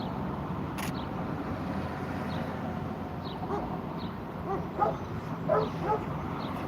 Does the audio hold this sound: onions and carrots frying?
no